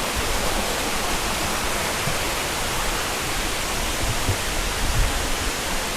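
Kuang Si Waterfall near Luang Prabang in rural Laos pours in a steady, dense roar of falling water, loud and unbroken throughout, with no voices over it.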